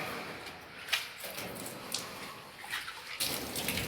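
Water from a hose or tap rushes steadily over a surface caked with stubborn tartar, rinsing part of the deposit away, a continuous broadband hiss with a few brief splashy peaks, fairly close and with no voices.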